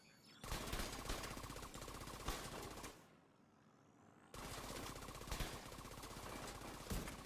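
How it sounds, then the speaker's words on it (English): Rapid gunfire from a SIG 716 rifle in a shooter video game, loud, dense bursts of shots with a brief quiet pause in the middle before firing resumes. "A few shots to the body and head, to show the double buff values from the in-sync talent"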